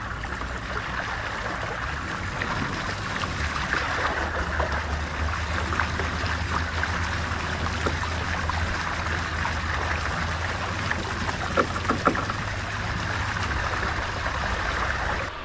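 A homemade paddle-wheel pond aerator churns the water of a pond, giving a steady, continuous wash of splashing and gurgling with a low rumble beneath, even and unbroken throughout.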